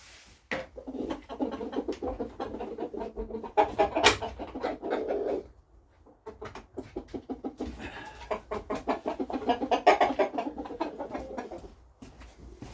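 Close chickens, including a black rooster, cluck and murmur in bursts, with a brief pause in the middle before the clucking resumes.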